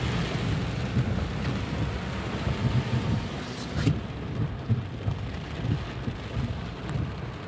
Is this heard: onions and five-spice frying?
no